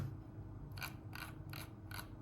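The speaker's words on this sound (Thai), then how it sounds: "นี่คือเมาส์ เมาส์ก็แก๊กนะครับเสียงก็จะดังประมาณนี้นะครับ" Four crisp computer mouse button clicks from a bundled stock mouse at an even, unhurried pace, close up over a soft background hum.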